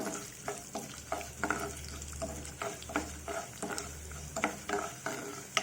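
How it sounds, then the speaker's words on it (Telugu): Urad dal, mustard seeds, chillies, curry leaves and asafoetida sizzle and crackle in hot oil while a utensil stirs and scrapes the pan, a steady close frying hiss with frequent clicks, no voices. "నూనె కలిగిన తర్వాత మినపప్పు ఆవాలు మిరపకాయ కరివేపాకు ఇంగువ వేసుకుందామండి"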